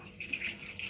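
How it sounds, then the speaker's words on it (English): Hot water from a spaghetti pot is poured straight into a kitchen sink, making a brief, steady splashing rush at moderate volume. "I don't usually pour hot water direct to my"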